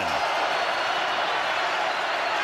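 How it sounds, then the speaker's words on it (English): A stadium crowd at an NFL game, Chiefs versus Ravens, roars loudly on a third down and ten. The noise is a dense, steady wall of sound from start to finish, with no single voice standing out. "Crowd in full throat on a 3rd down and 10"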